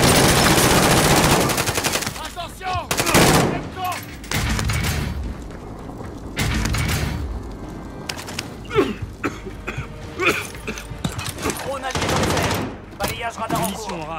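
Dense gunfire in the Call of Duty Modern Warfare video game, loud rapid bursts and scattered single shots with an occasional heavy boom, firing starting and stopping across the battle while voices talk in between.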